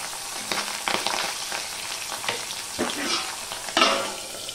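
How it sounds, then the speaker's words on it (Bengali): Small pabda fish fry in a hot wok, their oil spitting and crackling in irregular bursts of popping sizzle, fairly close and moderately loud, with no voices. "এবার সবার প্রথমে আমি মাছগুলোকে ভেজে নেব।"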